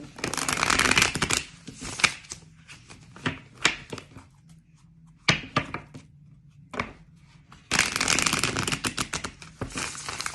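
Tarot cards shuffled in loud bursts of dense riffling and flicking, with quieter gaps of scattered card taps and handling in between, close up and without speech.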